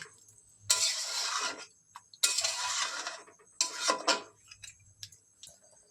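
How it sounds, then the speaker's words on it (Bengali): A spatula scrapes and stirs chicken in a pan for butter chicken masala in three separate bursts of metallic scraping and clatter with quiet pauses between, close and fairly loud, with no talking. "ভালো করে খুন্তির সাহায্যে নিচ থেকে নেড়ে দেব"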